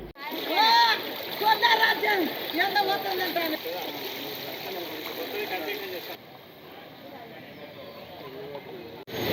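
Fast-moving floodwater from heavy rain rushes and splashes continuously through a swollen town canal, a loud churning flow that eases slightly toward the end.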